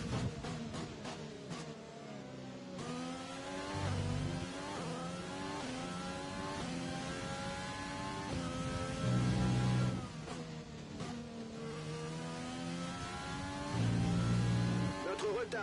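Race car engines in a racing video game scream through repeated gear shifts, rising and dropping in pitch over and over. They stay loud and steady throughout, with brief low thumps, and no voices are audible.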